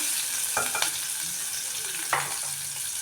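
Curry leaves and onion frying in a pan, a steady close sizzle with a couple of scraping stirs and clinks of a spoon, no talk over it.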